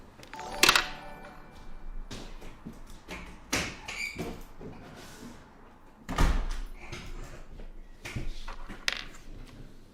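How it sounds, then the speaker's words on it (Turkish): A door bangs and thuds several times, with sharp knocks and rattles spread across the stretch, fairly close, over faint background noise. "Kapı çok çarpıyor değil mi? Bir dakika kapıyı kapatayım"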